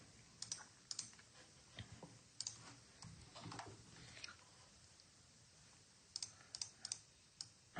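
Computer keyboard keys tapped while editing text, quiet scattered clicks in short clusters with pauses between bursts, close and alone.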